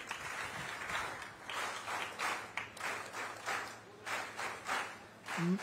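A crowd at a Chhattisgarh government function claps to welcome the chief minister, a somewhat distant wash of applause that swells and fades in uneven waves.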